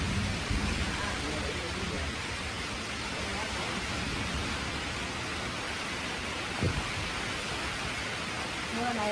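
Heavy rain pours down at a grandmother's house at night, a dense, steady roaring hiss that fills the whole stretch without a break.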